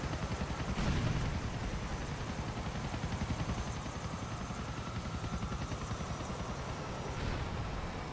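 A helicopter in Grand Theft Auto IV: its rotor thumps in a steady, rapid chop throughout, loud and close, with a continuous engine whine underneath.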